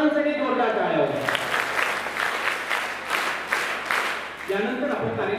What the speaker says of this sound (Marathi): एकदा प्रशांत कामकर सरांसाठी जोरदार टाळ्या होत्या.